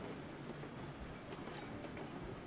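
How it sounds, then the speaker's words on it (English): A short log train rolling by in the railway game Railroads Online, a dense continuous rumble and clatter of wheels on track that stays fairly close and steady with no talk over it. "here comes our short little log train"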